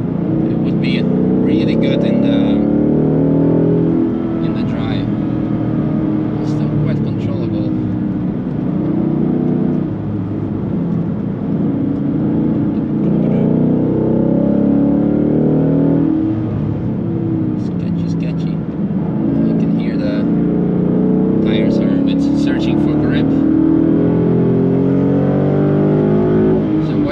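A Ford Mustang drives the Nürburgring in tricky, partly damp conditions, its engine droning steadily and loudly from inside the cabin while a driver talks over it throughout.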